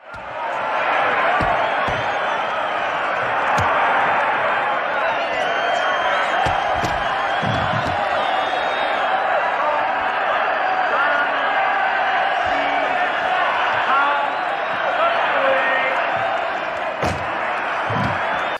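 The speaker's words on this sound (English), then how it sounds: "So again, there's a crowd there. They're watching this Muay Thai match." A large crowd roars and chatters continuously around a Muay Thai match in the James Bond film The Man with the Golden Gun, a dense steady wall of voices with scattered thuds and shouts.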